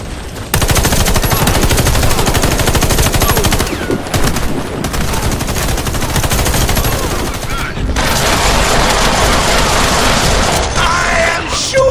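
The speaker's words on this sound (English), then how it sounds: "I am shooting you!" Rapid automatic gunfire in an action shooter video game, loud and sustained bursts with brief pauses, mechanical clatter between volleys, no talking.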